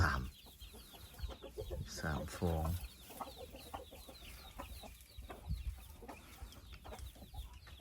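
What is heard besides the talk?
chickens and ducks clucking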